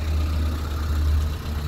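A 1993 Suzuki Jimny Sierra (Samurai) JB31W 4x4 with an automatic gearbox runs its engine, giving a steady, close, low rumbling hum with no speech over it.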